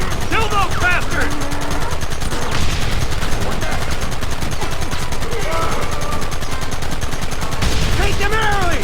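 Dense, rapid gunfire crackles almost nonstop in a Red Dead Redemption shootout, with bursts of shots layered loudly over game ambience, and voices calling out at times.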